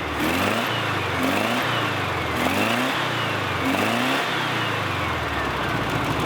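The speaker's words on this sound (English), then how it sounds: "So seems like a pretty good running little motor." A Volkswagen 1600cc dual port engine, a field find, runs steadily and close by, with repeated rhythmic revs rising and falling over a constant loud mechanical drone throughout.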